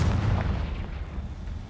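In the game Hogwarts Legacy, a Confringo blast spell goes off as a deep rumbling boom that fades over under two seconds, with no voice over it.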